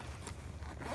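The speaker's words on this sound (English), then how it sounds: "Zip this up" A range bag's zipper is pulled shut in one quick, continuous close-up zip, loud and alone with no talk.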